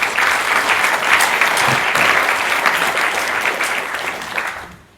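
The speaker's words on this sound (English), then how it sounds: "Can we give them another round of applause?" Loud, dense audience applause at a talk on democratising the media, steady many-handed clapping that runs unbroken before fading out at the end.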